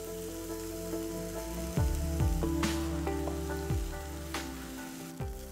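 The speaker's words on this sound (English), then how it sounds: "I like using 2 forks and mix the noodles well with the vegetables" Parboiled noodles and vegetables sizzle in a hot pan while two forks toss and mix them, giving a steady frying hiss with repeated light scraping and clinking strokes; no voices.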